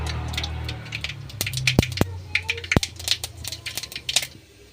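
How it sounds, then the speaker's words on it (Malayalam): Mustard seeds crackle and pop in hot coconut oil in a pan, with irregular sharp snaps building to a quick scattered patter over a low hiss. "കടുക് പൊട്ടിക്കഴിഞ്ഞു."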